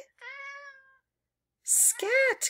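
Two clear cat meows a moment apart, the first drawn out and the second rising and falling, close to the microphone.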